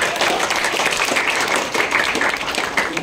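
An audience at the Wisata Sastra Sinema 2024 event applauds with dense, steady clapping that fills the whole stretch at an even, moderately loud level.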